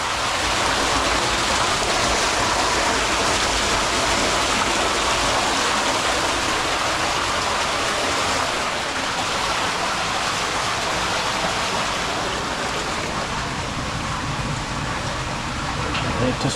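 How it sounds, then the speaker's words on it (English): Water gushes steadily into a new 1000-gallon acrylic fish tank on its first fill, a loud, constant broadband rushing like heavy rain or a small waterfall that stays even for the whole stretch, with a voice partly audible beneath it. "That's a lot of water coming in."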